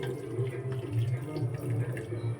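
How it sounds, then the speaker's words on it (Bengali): Milk is poured into a mixer jar holding mango and cashews for a shake, a soft, steady liquid trickle that stays fairly quiet and close. "এবারে আমি দিয়ে দিচ্ছি একটু দুধ"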